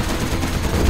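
Gatling cannon in Command & Conquer Generals Zero Hour firing a dense, loud, continuous burst of rapid shots, brief and close.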